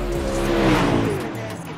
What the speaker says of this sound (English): let me know if at any point the cars are too loud or too low